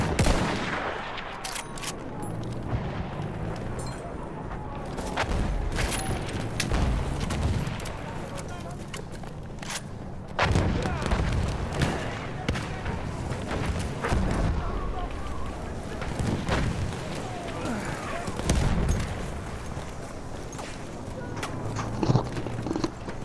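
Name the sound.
artillery fire and gunfire in video game Battlefield 1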